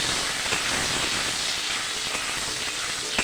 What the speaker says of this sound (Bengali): লবণ আর হলুদ দিয়ে আলু ভালো করে ভেজে নেব।